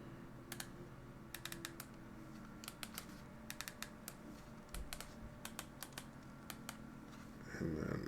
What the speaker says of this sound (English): I don't know if you guys can hear the keyboard clicking.